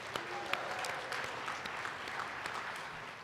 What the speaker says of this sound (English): Another round of applause for Claudette.